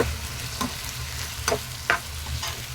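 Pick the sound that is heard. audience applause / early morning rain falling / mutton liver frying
mutton liver frying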